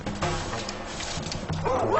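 A small, weak dog lets out yelping barks and whimpers in a wild setting, close and fairly loud, in several bursts.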